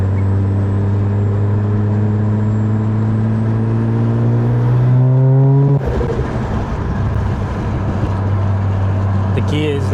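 Turbocharged Mazda RX8 rotary engine with a 5-speed gearbox pulling hard under acceleration, a loud rising drone climbing in pitch for about six seconds before a gear change drops it back, with the onboard exhaust roar continuing.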